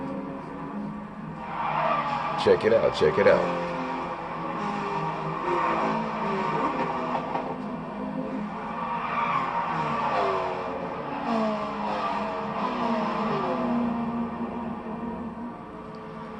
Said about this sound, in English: this was the N300 race car series this time, and so the car's power is way low on these cars